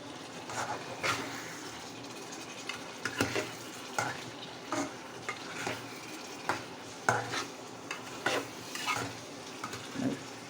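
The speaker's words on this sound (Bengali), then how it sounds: "একটু নাড়াচাড়া দিয়ে দিলাম আর কি।" Greens and prawns fry in a pan, stirred with a utensil that scrapes and clinks against the metal in a steady rhythm of short strokes over a soft background sizzle.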